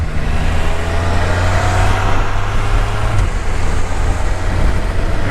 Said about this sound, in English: We got a couple motorcycles, a couple Harleys.